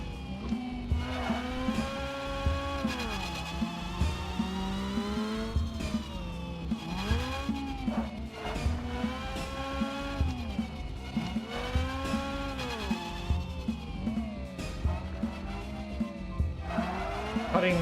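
A car in a physics-based free-to-play racing game drives with a steady engine drone that rises and falls in pitch, broken by repeated tire squeals and skids through corners, loud and continuous throughout.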